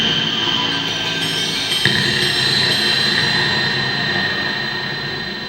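Faulty PlayStation 1 console at power-on, letting out a loud, steady droning whine with a high-pitched tonal hum, continuous and unbroken for several seconds.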